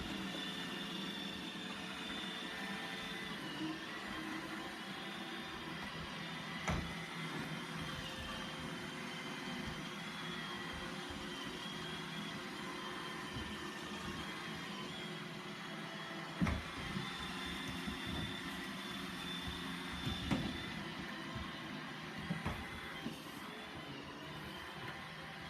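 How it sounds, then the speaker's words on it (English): A Roomba robot vacuum runs steadily indoors, a continuous even motor whir with brush noise, moderately close, with a few brief bumps and clicks and no talking. "The vacuum is vacuuming you."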